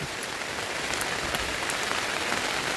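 Steady rain falls on a surface, a dense, even patter with occasional louder drops, no voices.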